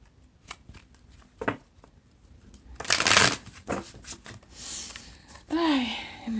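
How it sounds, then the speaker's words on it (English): A deck of cards being shuffled up close, with a long riffling burst among lighter handling rustles, and a brief voice near the end. "All right, one more shuffle."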